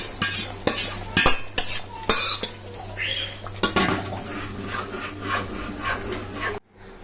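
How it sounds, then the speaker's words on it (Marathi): A utensil scrapes and stirs cooked pav bhaji vegetables in a metal pan. Rhythmic scraping and knocking strokes come up close, easing into softer mixing before stopping abruptly near the end. "हे बघा, आपण भाजी अशी मस्त मिक्स करून घेतली आहे"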